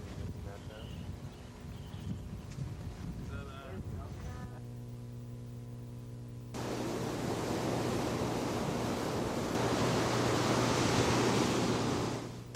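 Heavy surf pounding the Galveston shore during Hurricane Alicia, a dense roaring wash of breaking waves with wind noise that builds and stays loud, with brief talk at the start.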